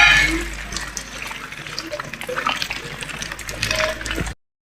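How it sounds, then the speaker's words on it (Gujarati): Heavy rain pours down in a steady loud wash of falling water that continues for several seconds and then cuts off abruptly. "વરસાદ વધ્યો."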